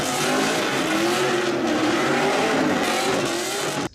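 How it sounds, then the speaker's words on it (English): A roaring muscle car V8 with screeching, squealing tires in a smoky burnout, held at high revs, loud and continuous, cutting off abruptly at the end. "and tremendous smoky burnout"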